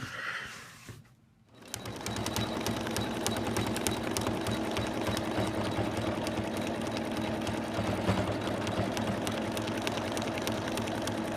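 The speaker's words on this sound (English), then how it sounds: "we're going to take the hoop back to the machine and we're going to stitch them together, just like that" An embroidery machine stitches in its hoop for an in-the-hoop Santa project, starting after a brief quiet moment and then running in a steady, continuous rapid clatter at close range.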